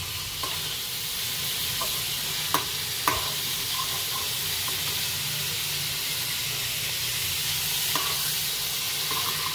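Ingredients sauté in a small amount of cooking oil with onions in the pan, giving a steady, loud, close sizzle and hiss that runs throughout, broken by a few sharp pops and clicks.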